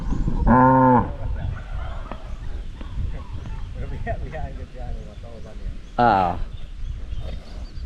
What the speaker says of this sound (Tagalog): siya yung unang nating baka dito na dito pinanganak.